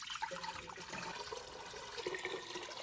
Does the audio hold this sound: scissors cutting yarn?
no